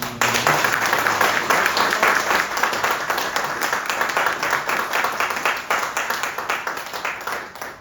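A crowd at a memorial event applauds loudly and steadily for several seconds, dense clapping that fades slightly toward the end, with no one speaking.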